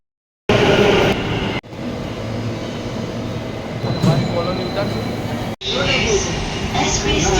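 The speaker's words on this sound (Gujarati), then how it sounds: "This is a metro station Ahmedabad." An Ahmedabad metro train rumbles steadily at a station, a loud continuous rolling roar with faint wheel squeal, cut by brief breaks in the sound.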